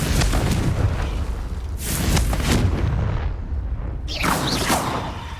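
Fire spells cast in Hogwarts Legacy burst in loud, close booming blasts, one near the start and another around two seconds, then a third near four seconds, with rumbling tails.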